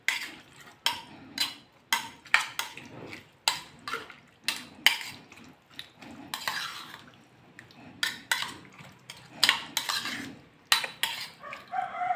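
A spoon stirs yogurt into vegetable pulao in a metal pot, giving a steady run of sharp scraping clinks and knocks at close range, with no talking.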